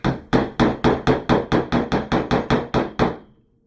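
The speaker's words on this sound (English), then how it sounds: "A good trick is make sure you use something nice and heavy like a hammer." A heavy hammer taps a pin into a paintball marker during a Cyclone Vortex mod, striking about fourteen times in a steady, even rhythm, each hit loud, sharp and close, the last blow ringing out briefly.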